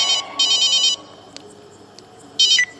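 Electronic telephone ringtone as a call is placed, two short bursts of bright trilling tone separated by quiet, with faint clicks in between.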